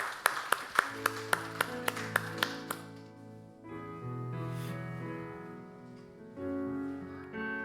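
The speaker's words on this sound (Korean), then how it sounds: "우리 하나님께 영광의 박수 올려드립니다." A church congregation at a Sunday morning worship service claps in a brisk, evenly spaced rhythm, about ten sharp claps, over sustained keyboard music that carries on alone after the clapping stops.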